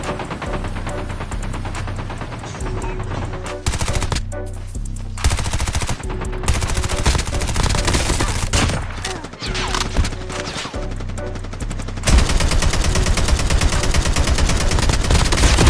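Rapid bursts of automatic gunfire in a video game crackle almost nonstop, loud and dense, with heavy booming shots mixed in and a sharp intensifying barrage near the end.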